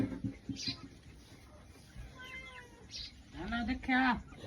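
A cat meows several times close by, with short plaintive calls scattered through the clip and a louder meow near the end. People talk at the same time.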